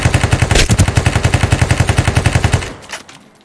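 Rapid automatic gunfire in the video game Ring of Elysium, a steady burst of evenly spaced loud shots lasting over two seconds before cutting off, leaving a fading echo.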